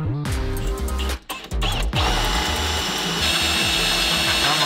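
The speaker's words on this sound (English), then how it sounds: "Michael's ready for the big drill." A big power drill bores holes into a Castlemaine Rod Shop differential, whining loudly with a rising motor pitch, a brief stutter and pause, then a sustained, steady grinding drone.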